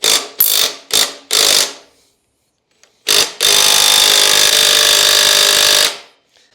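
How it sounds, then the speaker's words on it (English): A rattle gun with a 13/16 socket hammers at a go-kart clutch nut on a Victa 2-stroke kart in four short close bursts. After a pause it gives one more burst, then a long sustained rattle. "Just got my rattle gun and a 13/16 socket on there."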